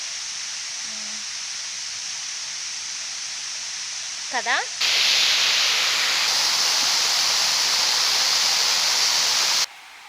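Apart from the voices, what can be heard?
Bheemuni Padam waterfall, rushing water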